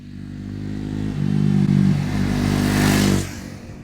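A Triumph Scrambler 400X motorcycle engine running close by, a loud steady throb that swells in revs midway and then cuts off sharply near the end.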